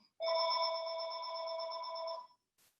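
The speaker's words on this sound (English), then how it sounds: "that's our home phone ringing" A home telephone rings once in a single sustained electronic trill lasting about two seconds, clear and alone in a quiet room.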